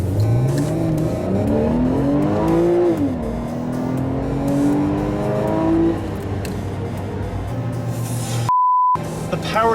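A 2011 Porsche 911 Carrera 4S accelerates hard through several gears, with engine pitch climbing and dropping at each shift. The loud, close engine note runs throughout and ends with a short electronic beep.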